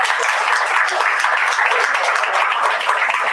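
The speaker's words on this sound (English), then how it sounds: "have another big round of applause" Audience applause at a district attorney candidate event in a packed, standing-room hall, loud dense clapping sustained throughout without a break.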